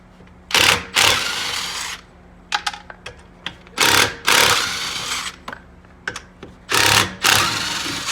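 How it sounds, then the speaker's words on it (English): Lug nuts come off a 2006-2009 Dodge Charger wheel during a brake job, with several loud, close bursts of a powered wrench lasting about a second each, separated by short pauses and lighter clanks. "we're gonna start off by taking off the wheel."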